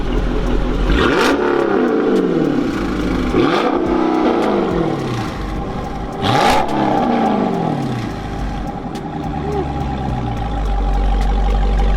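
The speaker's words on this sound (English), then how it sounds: "We're gonna go ahead and give it a rev." A loud 2018 Scat Pack engine with a throaty aftermarket Corsa exhaust revs three times, each rev rising sharply then falling back to a rumbling idle.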